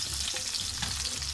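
Green chilies sizzle in hot soybean oil with chopped onion, a steady close crackling fry with faint stirring scrapes throughout.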